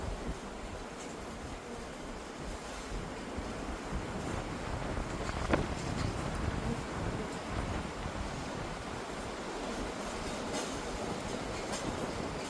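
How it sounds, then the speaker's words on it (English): Steady wind rushing and buffeting against the microphone outdoors at a beehive setup, a continuous broadband roar with no voices. "You guys can see how windy it is today."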